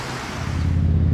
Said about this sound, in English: enjoy the water crashing onto the shore